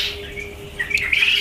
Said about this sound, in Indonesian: burung ini berisik sekali